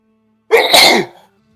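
A single sharp sneeze, close and loud, bursting out after a moment of quiet and trailing off quickly.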